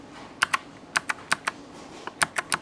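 Crisp, clicky keystrokes tap out in small irregular clusters, close and distinct, on a GMMK3 mechanical keyboard.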